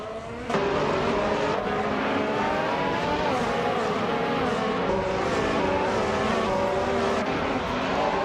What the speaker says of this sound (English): Antonin 54 is driving a Ferrari SH70H.